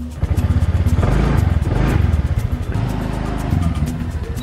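Motorbike ride at night on Siargao in the Philippines, the engine droning loud and close with rising revs and a steady rumble, wind and road noise throughout, no talking.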